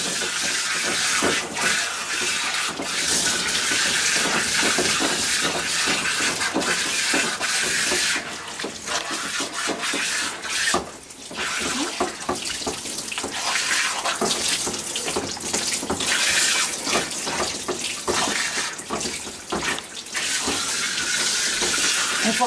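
Running water pours steadily over an American Cocker Spaniel's coat during a rinse at a grooming trim, a constant close splashing hiss for the whole stretch with small shifts in flow and no talking.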